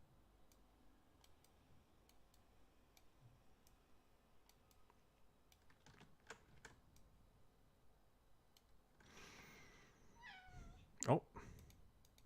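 A house cat gives a short, loud meow near the end, after a long stretch of quiet room noise and scattered light clicking.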